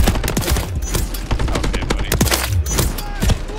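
Rapid video game gunfire, a stream of sharp, loud shots in quick irregular bursts over a background of game noise, with a voice heard faintly underneath.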